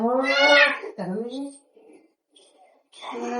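A cat gives two loud, close, drawn-out meows in quick succession, followed by a quiet pause and then another vocal sound at the end.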